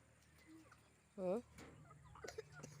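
A single short cluck from a chicken nearby, with faint rustling and quiet background noise around it.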